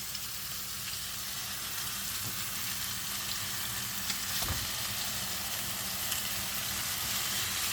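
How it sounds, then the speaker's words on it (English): Turkey burgers frying in a pan give a steady, close sizzle and crackle that holds evenly throughout, with no talking. "We can also go ahead and flip our turkey burgers because they're ready"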